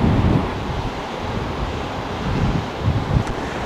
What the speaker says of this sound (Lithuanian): ten irgi bangytės nemažos